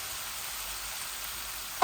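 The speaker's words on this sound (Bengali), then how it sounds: "এইভাবেই ঢেলে দিচ্ছি আমার লাউ" Bottle gourd simmering into frying spices in a pan for a fish curry, a steady close hiss of sizzling oil, ending with a short sharp clatter.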